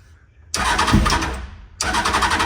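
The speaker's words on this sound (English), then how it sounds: "We got the fuel pump working, kill switch working." An electric fuel pump on a Hornet minitruck project switches on, giving a sudden steady buzzing whir that runs for about a second, cuts out briefly, then resumes loud and close.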